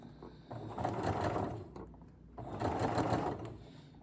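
A sewing machine understitches a garment facing for Simplicity 9334, running in two close, steady bursts of rapid mechanical stitching with a short pause between them.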